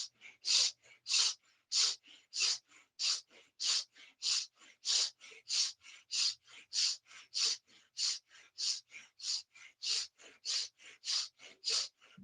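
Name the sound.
deep breathing, inhaling and exhaling from the chest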